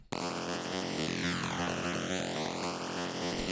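A dry synth loop with the effects switched off plays as a dense, steady pulsing tone with a regular rhythmic beat and a sweeping, filtered shimmer, quiet and continuous with no voices.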